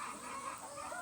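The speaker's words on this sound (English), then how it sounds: "The roosters." Roosters clucking continuously in a noisy farmyard on Polyface Farm, a steady murmur of many birds nearby with no single call standing out.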